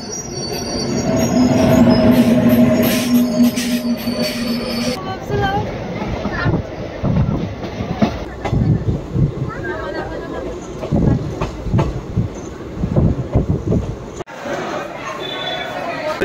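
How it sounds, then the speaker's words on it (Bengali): A passenger train bound for Rampurhat pulls out of Guskara station with loud rumbling, rhythmic wheel clatter and squeals, while passengers chatter nearby. "ট্রেন ছেড়ে দিল রামপুর হাটের উদ্দেশ্যে।"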